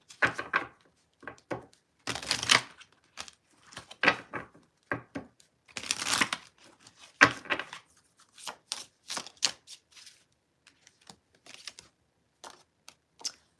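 Hidden Truth Oracle cards are shuffled and handled at close range, with a series of quick riffling bursts, taps and snaps separated by short pauses.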